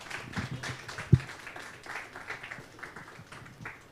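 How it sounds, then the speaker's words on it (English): An audience applauds for speakers coming up at a writers' mingle event in Kigali, Rwanda: a steady patter of clapping from a modest crowd, with one sharper clap standing out near the start. "Round of applause, please"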